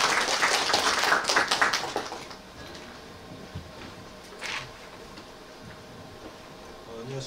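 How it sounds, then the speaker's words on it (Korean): Audience applause at a Korean business forum on industrial technology protection, a short burst of clapping that fades after about two seconds, leaving quiet room noise and a few isolated taps. "큰 박수 부탁드립니다"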